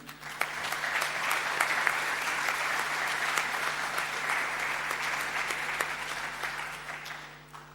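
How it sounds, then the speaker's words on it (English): Conference attendees give the gold sponsors a sustained round of applause, with dense, even clapping from a sizable crowd lasting about eight seconds before it tapers off. "a big applause for them also"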